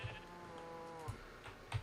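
Sheep bleat in the video game SkyTable on a wool farm, a single wavering bleat rising over soft game ambience with a few faint thumps around it.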